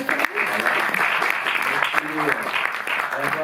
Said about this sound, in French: à la carrière de la fameuse Evelyne Vives que je vous demande d'applaudir.